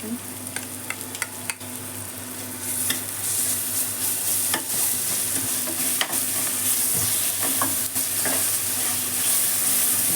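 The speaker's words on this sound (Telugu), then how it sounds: "అల్లం వెల్లుల్లి పేస్ట్ ఒక 2 స్పూన్లు వేసుకున్నాను." Ginger garlic paste frying in a pan for gongura mutton makes a continuous bright sizzle, with sharp scraping stir strokes at intervals over a low steady hum, close and fairly loud, with no speech.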